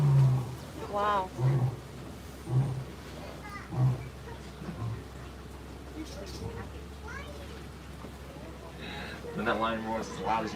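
A lion roars several times during a live wildlife broadcast, deep rumbling bursts spaced a second or so apart that fade into background noise, with a voice talking over the later part.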